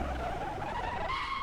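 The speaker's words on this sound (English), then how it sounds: "Handbrake turn on a Porsche 911." A Porsche 911 993 handbrake turn in Assetto Corsa: a loud, continuous tyre skid squeal over the engine note, heard alone for about a second and a half.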